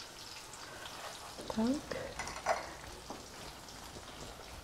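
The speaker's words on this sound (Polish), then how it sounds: "skończyłeś już smażenie" Small pancakes sizzling in a frying pan in a home kitchen, a soft steady crackle with faint popping that runs under people chatting.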